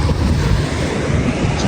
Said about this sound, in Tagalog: Lakas lang yung hangin.